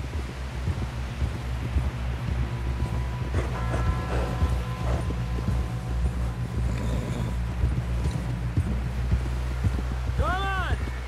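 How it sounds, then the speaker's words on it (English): Horse hooves clip-clop steadily in Red Dead Redemption 2 story mode, soft repeated thuds under wind and outdoor ambience while characters talk. "Someone help John down off this horse."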